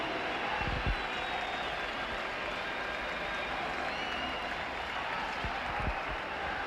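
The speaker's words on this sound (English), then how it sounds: "Ellery Hanley leads out the Wigan team. He gets a fabulous reception here from the crowd." A rugby league crowd at Central Park greets the Wigan team walking out for a match against Leeds, with broad distant applause and cheering under a continuous stadium roar.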